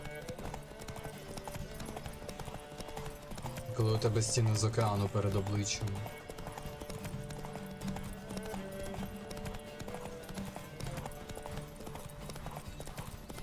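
Horse hooves in The Witcher 3, a steady rhythmic clip-clop that grows louder for a few seconds and then settles back, heard under someone talking over game music.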